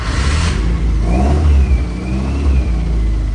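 A car engine revs hard in a diagnostic run while a crank sensor fault is checked, a loud close roar that swells and holds, then eases slightly, with no talking.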